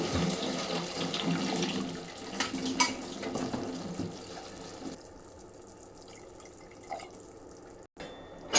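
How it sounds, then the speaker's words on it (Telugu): Water splashes and pours steadily into a cooking pan of masala gravy for paneer butter masala, a close running-liquid sound that thins out and gives way to faint drips. "ఇలా ఆయిల్ పైకి తేలాక ఇందులో 1 గ్లాస్ వాటర్ పోసుకోండి."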